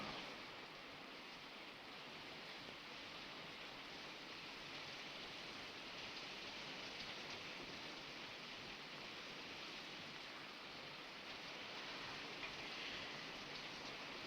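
Steady rain pours throughout a storm, a dense, even hiss at low level, with no voices heard.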